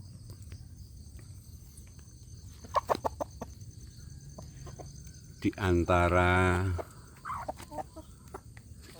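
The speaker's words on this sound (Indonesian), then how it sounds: "Pagi ini saya memberi makan ayam kampung saya sedulur." Free-range village chickens are fed leftover rice outdoors, with a rooster calling and hens clucking in short bursts over a steady bed of insect buzz. Someone speaks briefly.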